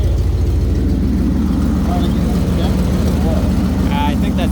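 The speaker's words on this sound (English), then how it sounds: "I think that's the exhaust leak" A 1997 Ford car runs with an exhaust leak, a steady low rumbling engine drone with a rapid pulsing throb, loud and close, while faint voices come through underneath.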